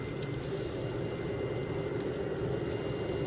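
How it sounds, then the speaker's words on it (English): A steady, dense rushing and whooshing drone of coolant flowing through a hot BMW E65 730d diesel engine bay, continuous and close with no talking. "I can hear coolant flowing."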